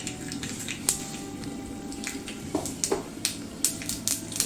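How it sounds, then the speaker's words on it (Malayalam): Mustard seeds splutter and pop in hot coconut oil while tempering a papaya erissery, with sharp irregular crackles that grow more frequent against a low sizzle, close and fairly quiet. "വെളിച്ചെണ്ണ ചൂടായിട്ടുണ്ട് അതിലേക്ക് കടുക് ചേർത്ത് കൊടുക്കാം"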